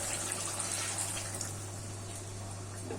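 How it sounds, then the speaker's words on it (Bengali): Water is poured into a pan of simmering drumstick-and-poppy-seed curry, a soft steady trickling splash, faint and close, over a low constant hum. "এখন আমি পরিমাণ মতো জল দিয়ে দেব।"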